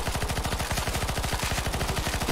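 Rapid, continuous automatic gunfire in Counter-Strike: Global Offensive during a zombie escape match, a steady dense rattle of shots running the whole time without talk.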